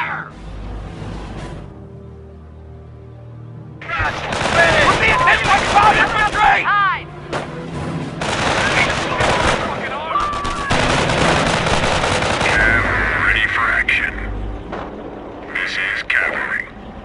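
Gunfire fills a war video game campaign mission, with repeated bursts of rifle and machine-gun fire, loud and close, broken by short pauses, and shouted voices heard among the shots.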